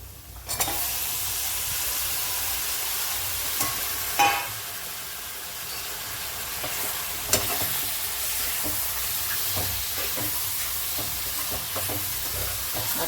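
Mutton with ginger-garlic paste fries in a pan with a continuous, moderately loud sizzle, punctuated by a few sharp clinks and scrapes of stirring.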